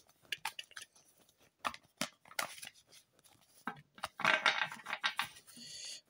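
Cards for a reading are shuffled by hand, close and quiet, in irregular bursts of papery riffling and slapping separated by short pauses.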